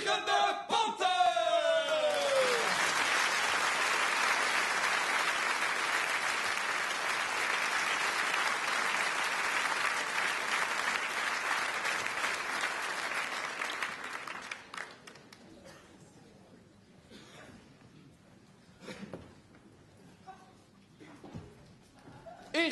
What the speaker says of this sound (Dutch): Jongens en meisjes, geef ze een daverend applaus.